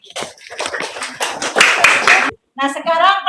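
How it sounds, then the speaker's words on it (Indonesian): A group of people clap their hands in a classroom, a burst of close, uneven claps lasting a couple of seconds, followed by speech after a short pause. "Yuk, tepuk tangannya dulu."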